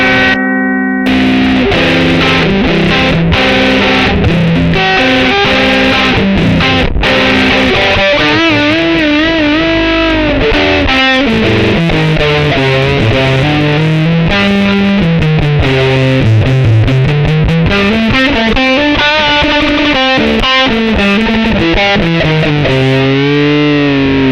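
Thick, fuzzy distorted electric guitar through a fuzz pedal plays loudly throughout, with sustained buzzing notes and bending, sliding lines.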